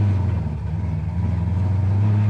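A 1969 Chevy Camaro's engine revs under acceleration, a steady, loud low rumble close up that holds throughout.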